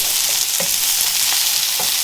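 Carrots and shallots cooking in a covered pan, a loud steady sizzle with a few soft stirring scrapes spaced through it.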